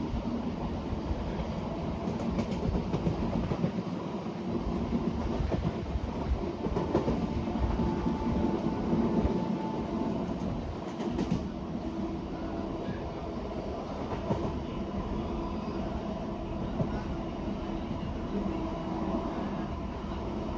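A passenger train runs on the Renigunta to Nellore route, a steady loud rumble of wagons with faint rhythmic clatter from the tracks, heard from inside and continuous throughout with no talking.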